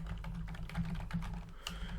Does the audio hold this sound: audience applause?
no